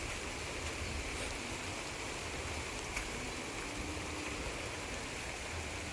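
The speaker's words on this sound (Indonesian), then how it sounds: "Ini sungai" A river flows past a village, its steady broadband rush of water faint and continuous, with no voices or other distinct sounds.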